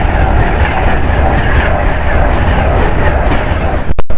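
An Avanti West Coast Class 390 Pendolino electric train rushes loudly and steadily through Bushey station, a continuous roar of wheels on rails, ending with a couple of sharp clicks.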